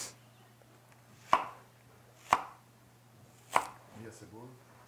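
A knife chops half an onion on a board for Santarém bean hummus: three distinct, well-spaced thuds, close and clear, followed by brief talking near the end.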